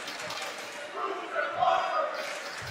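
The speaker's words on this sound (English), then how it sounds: "Oh, listen to that crowd from Solon there." A student crowd cheers in a school gym during a boys and girls basketball game, a roaring swell of voices that builds to a peak and then eases, heard at a moderate distance.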